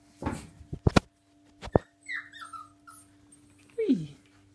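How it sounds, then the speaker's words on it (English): Small puppies whimper and yip in a few short, close bursts alongside their mother, with a rising squeak near the end and a quiet voice briefly heard. "I figured I'd show you the puppies."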